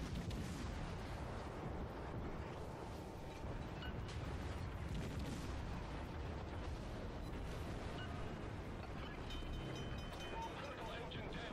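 Naval artillery fire in World of Warships, ship guns booming in a steady dense rumble of shots and sea wind, with someone speaking over the battle throughout.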